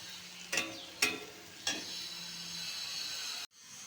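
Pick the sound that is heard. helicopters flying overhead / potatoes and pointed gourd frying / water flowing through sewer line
potatoes and pointed gourd frying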